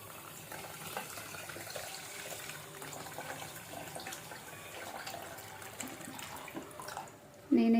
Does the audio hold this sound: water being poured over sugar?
yes